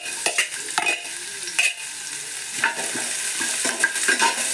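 Chopped ginger and onion sizzle in oil while a spoon stirs and scrapes the pan, giving intermittent clatters over a continuous hiss.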